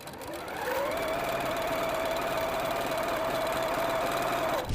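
A sewing machine runs steadily, stitching rag quilt blocks made from thrifted fabric, with a continuous close motor hum and whir that holds a constant pace for several seconds.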